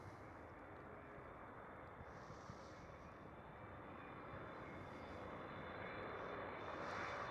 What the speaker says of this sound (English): China Airlines cargo.